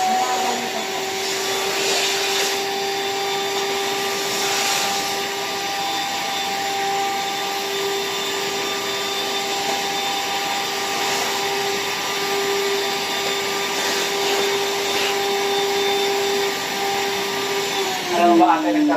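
A Rainbow vacuum cleaner works into the corners of a sofa during a dust-mite removal demo, its steady, fairly loud motor whine holding throughout with a faint bump near the end.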